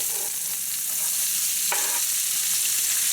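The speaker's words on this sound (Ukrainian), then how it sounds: "Зараз ми додаємо цибульку в ці олійки і її будемо жарити." Onions frying in vegetable oil in a pan for an eggplant appetizer give a loud, steady hiss and crackle close up, with one brief sharper burst partway through.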